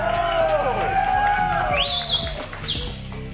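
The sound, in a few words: studio audience cheering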